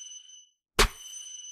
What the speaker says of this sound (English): So you're not hearing the chime getting in the way of the snare in the beginning.